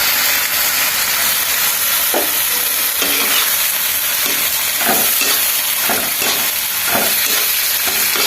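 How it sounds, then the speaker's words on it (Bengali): Vegetables tipped into a hot frying pan for homemade noodles sizzle and hiss steadily while a spoon scrapes and stirs in repeated strokes, loud and close with no talking. "এখন সবজিগুলো দিয়ে দিতেছি।"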